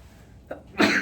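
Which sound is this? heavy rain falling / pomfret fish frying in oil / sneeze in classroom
sneeze in classroom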